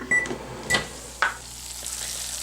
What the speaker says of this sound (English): So we're just going to microwave that for about a minute.